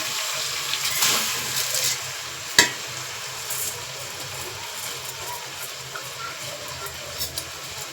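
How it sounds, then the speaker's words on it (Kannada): Soaked rice tipped into a hot pan for vegetable pulao gives a soft continuous sizzle with stirring scrapes, one sharp utensil clack partway through, close and fairly steady. "ಈಗ ನಾನು ಅಕ್ಕಿನ ಆಲ್ರೆಡಿ ನಾನು ನೆನೆಸಿಟ್ಕೊಂಡಿದ್ದೆ ಈಗ ಅಕ್ಕಿ ಹಾಕ್ತಾ ಇದ್ದೀನಿ"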